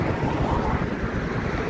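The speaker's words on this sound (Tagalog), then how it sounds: "Ang lakas ng alon dito sa may seawall." Strong ocean waves surge against a seawall, a continuous roaring wash of surf mixed with heavy wind buffeting the microphone, loud and close.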